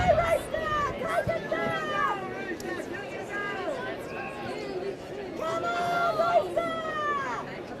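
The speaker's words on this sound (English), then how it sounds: "Probably tell we're sitting straight above the vocal Elliston crowd" A vocal Elliston crowd at a B Grade country football match at Wirrulla keeps up a steady babble of chatter and calls, with a few whistles and shouts rising out of it.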